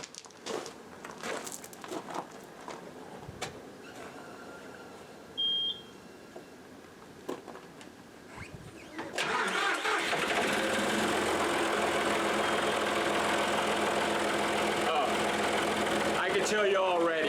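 A John Deere 5075E tractor with freshly replaced fuel filters cranks with beeps and clicks, then its diesel engine catches and runs in a loud steady idle close by.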